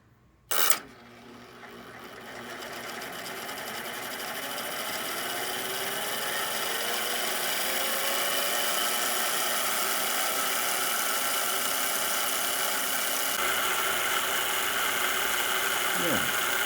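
A Hammond organ chorus tone generator motor starts with a sharp click and then spins steadily with a rising mechanical whir, sustaining a smooth hum before a brief pitch drop at the end.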